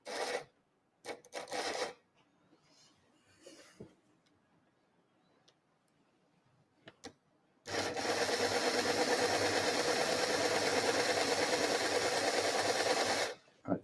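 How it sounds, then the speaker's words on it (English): A model train's small electric motor, powered directly, gives a few short bursts, then after a quiet pause runs steadily with a close buzzing whir for about six seconds before stopping. "So I'm just applying power directly to the motor."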